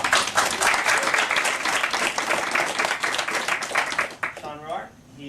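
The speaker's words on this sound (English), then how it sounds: "So a round of applause." Applause from the audience at a comic convention panel, a steady wash of crowd clapping that tapers off near the end as a voice begins speaking.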